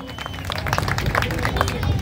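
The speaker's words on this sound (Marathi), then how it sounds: "एकदा मिलिंदरावसाठी जोरदार टाळ्या होऊन जाऊ द्या" An audience in Ambajogai claps for Milind at an event, a dense burst of applause that builds and holds steady, with crowd chatter and voices mixed in.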